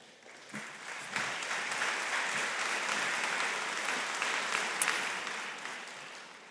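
Graduates' families at a College of Veterinary Medicine ceremony burst into applause and cheering, clapping swelling quickly and holding steady for several seconds before easing off.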